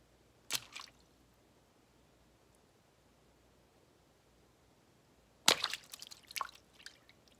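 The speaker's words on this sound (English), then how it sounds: "I feel like it still needs some splashiness though, and I have all this water all over the floor" Water splashed onto a wet floor as Foley for a violent, gory scene: a short wet splat near the start, then a longer, messier burst of splashes and drips after a quiet pause, faint and without talk.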